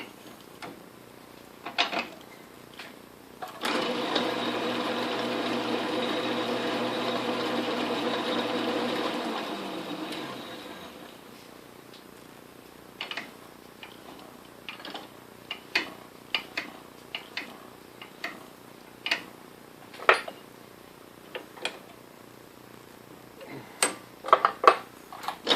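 An Atlas Craftsman lathe turned backwards by hand gives a steady mechanical whir for several seconds, then scattered sharp clicks and ticks of the gears and chuck, close and alone.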